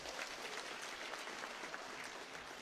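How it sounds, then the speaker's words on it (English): A faint, distant round of applause from the audience at the national population and housing census event, a steady dense patter of many hands clapping throughout. "Can we give him another round of applause?"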